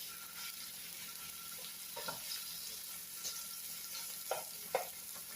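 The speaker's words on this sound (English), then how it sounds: "I'm just frying these up to get some color on" Pieces frying in a pan to brown for baked ziti give a soft, steady sizzle, quiet and continuous, with a few faint clinks and stirring scrapes.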